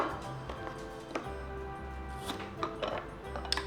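Beets being chopped on a board for a home snack, a series of irregular knife thuds and taps at close range, fairly quiet, with light kitchen clatter and no talk.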